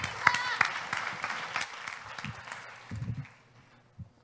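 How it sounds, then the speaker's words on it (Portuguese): A church audience claps, a spread of hand claps that builds and then thins out, with a voice speaking over the clapping and a few scattered claps fading at the end. "Uma salva de palmas pra Jéssica."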